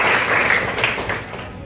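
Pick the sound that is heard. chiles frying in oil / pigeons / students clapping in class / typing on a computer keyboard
students clapping in class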